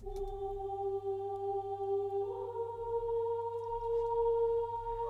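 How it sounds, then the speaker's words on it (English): Female oud choir vocal preset from the Expand 2 synth, playing alone for an up-tempo R&B beat: soft sustained choir tones that hold steady and shift to a higher pitch partway through, quiet and smooth. "But the choir by itself sounds like this."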